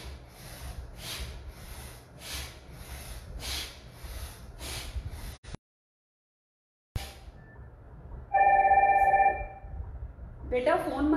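A telephone rings briefly in a home during a yoga session, a steady electronic tone sounding once near the end after a pause, with someone speaking before and around it.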